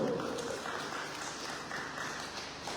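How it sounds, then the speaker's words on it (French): An audience at an inauguration ceremony for tax sub-centres in Mitsamiouli applauds the governor, a steady wash of many hands clapping at moderate distance throughout. "Je demande au public d'applaudir encore une fois son Excellence,"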